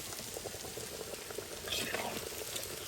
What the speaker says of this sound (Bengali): এখানে হচ্ছে গাজর ভাজিয়ে,